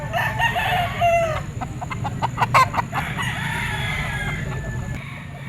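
A gamecock stag, a green-legged Gilmore Hatch, crows nearby at a market, its call rising and sustained over steady crowd murmur and background noise, with a second crow following later.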